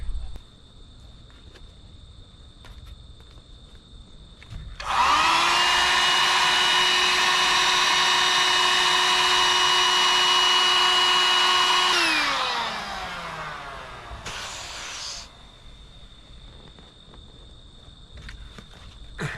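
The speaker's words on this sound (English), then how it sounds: "this Coleman air pump, I think it was my dad's" A Coleman electric air pump, made in 2017, starts up abruptly and runs with a loud, steady whine for about seven seconds, then winds down; a brief burst of noise follows amid quiet footsteps.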